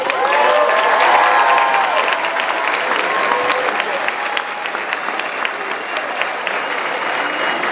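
A large crowd applauds steadily at a high school graduation, loud and sustained clapping filling the space throughout, with a few faint voices mixed in.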